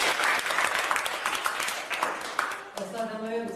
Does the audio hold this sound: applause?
yes